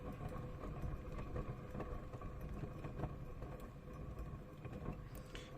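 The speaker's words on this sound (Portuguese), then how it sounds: "Costuma ele ficar enferrujado por dentro e ocasionar esses barulhos aí, ó." A Honda PCX scooter's front wheel with a rusty bearing gives off a faint, steady mechanical whir with irregular light clicks and rattles, quiet and close with no talk over it.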